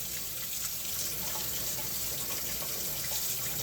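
Hot water runs from a kitchen tap in a steady, unbroken stream, heard close and fairly quiet throughout.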